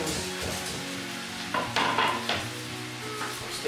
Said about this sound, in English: to fry the onions